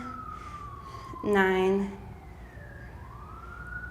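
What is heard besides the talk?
emergency vehicle siren passing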